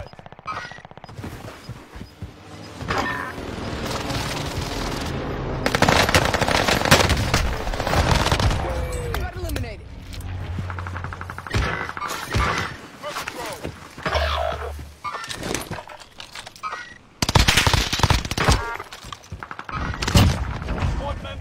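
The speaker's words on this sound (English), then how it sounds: "Enemy precision airstrike, stay alert." A precision airstrike lands amid rapid gunfire in a multiplayer shooter video game, with loud bursts of automatic fire, booming impacts and thuds throughout, and several players talking over the chaos.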